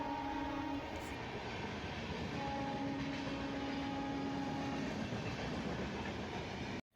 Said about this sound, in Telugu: ఫైనల్లీ ట్రైన్ అయితే వచ్చేసింది